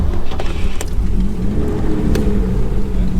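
Marcos sports car with an English straight-six engine idling steadily after starting, a deep continuous rumble heard close up with a few brief sharp clicks.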